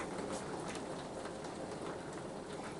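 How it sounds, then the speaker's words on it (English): Steady rain falls in a soft, even hiss, with scattered droplets pattering on a surface nearby and no voices. "I'm just gonna sit here and listen to the rain."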